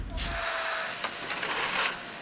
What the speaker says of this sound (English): buzz of chainsaws and power drills ringing out at the Gaylord Texan